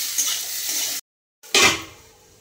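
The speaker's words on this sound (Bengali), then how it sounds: "তো ভাত ভাজা করছি।" Leftover cooked rice stir-frying in a pan gives a loud, steady sizzle with stirring scrapes, broken by a sudden half-second gap of silence before the frying noise returns strongly and fades.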